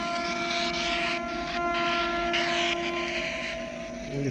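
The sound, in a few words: long-distance train passing on railway line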